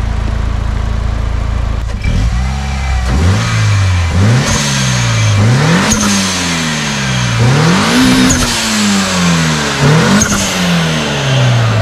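A Mitsubishi EVO IX with an open HKS SSQV blow-off valve revs repeatedly, loud and close, each rising run of engine note cut off as the throttle drops, in uneven bursts after a short idle.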